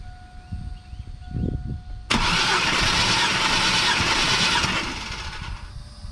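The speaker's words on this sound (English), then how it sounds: "I'm gonna go ahead and crank it over." A Chevrolet Silverado engine cranks over steadily on the starter during a compression test, a loud continuous churning that starts abruptly after a short quiet stretch and holds for about three seconds before easing off.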